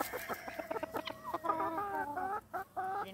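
Guinea fowl on a homestead call in a run of harsh, repeated clucking cries with overlapping voices, fairly close and loud, and no talking.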